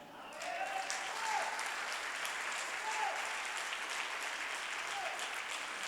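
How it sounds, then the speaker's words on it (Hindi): An audience claps at a gathering, a steady wash of applause that swells in, holds evenly at moderate level and carries on without pause. "तो शांत क्यों बैठे, ताली बजाएं।"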